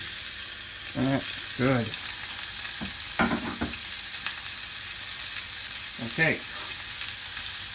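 Tomatoes fry in hot oil in a pan with a constant sizzling hiss, while a voice speaks briefly a few times over it.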